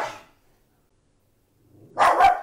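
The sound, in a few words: dog barking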